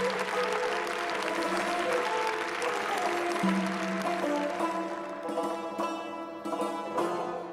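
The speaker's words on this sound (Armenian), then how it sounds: "ձեր ծափահարությունները" An audience at a national music awards ceremony applauds a nominated ensemble, a dense, sustained wash of clapping that fills the hall and thins slightly toward the end, with instrumental music sounding underneath.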